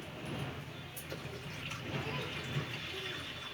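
Water poured from a glass into a kadhai on a kitchen stove, a steady low splashing wash that runs continuously and fairly faint, with no talking.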